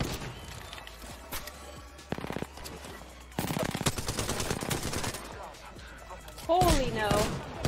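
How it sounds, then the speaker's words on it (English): Automatic gunfire in the Apex Legends battle royale shooter, rapid bursts crackling loudly under a player's excited talk and game sounds, with a dense fusillade in the middle of the stretch. "I'm spotted, taking fire."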